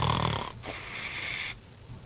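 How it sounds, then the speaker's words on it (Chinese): A sleeping man snores loudly and close by, two rough rasping breaths with a short pause between them. "每天晚上睡着没多久，呼噜声就越来越大"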